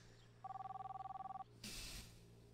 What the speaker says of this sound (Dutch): Hoor je dat de hele tijd, de telefoon?